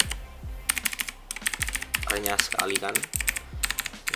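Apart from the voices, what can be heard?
typing on Imperion Mech 7 mechanical keyboard, blue switches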